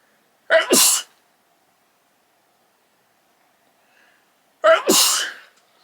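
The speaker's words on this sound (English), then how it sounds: "I can just sneeze." Two sharp sneezes, several seconds apart, each a quick burst close to the listener, with near silence between them.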